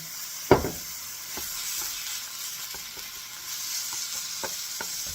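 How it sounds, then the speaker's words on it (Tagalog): Beef sautéing in a pan with sake, soy sauce and mirin for niku udon: a steady close sizzle opens with one sharp clack, then soft intermittent scrapes of stirring, without speech. "Gisa-gisa lang guys."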